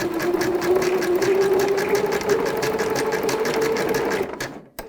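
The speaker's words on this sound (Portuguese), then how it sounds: "vou na minha máquina costurar" A home sewing machine running a zigzag stitch on a child's unisex jumpsuit, a steady loud mechanical whir with a fast rhythmic clatter held for about four seconds before stopping abruptly, close up with no talking.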